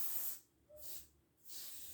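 A handheld spray paint can used for graffiti gives off two bursts of hissing paint spray at close range, separated by short pauses and followed by a third hiss at the end.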